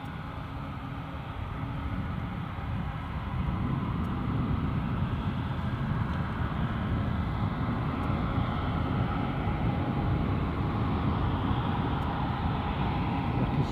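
An Aer Lingus turboprop airliner starts its engines at Edinburgh Airport, a distant, low, continuous drone that builds slightly in the first seconds and then holds steady.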